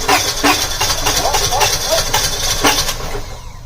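A worn Honda Civic engine cranking and catching, rough and loud up close, with people talking over the running engine.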